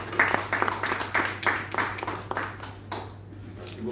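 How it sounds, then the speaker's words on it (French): Applause at a signing ceremony for a food aid agreement, a short burst of rhythmic clapping from a small audience that fades out within a few seconds over a low hum. "Vos applaudissements, s'il vous plaît, pour ces signature."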